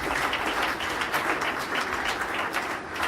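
An audience applauds Kofi and Angela at a send-off celebration, a dense, steady wash of clapping from many hands that continues without a break.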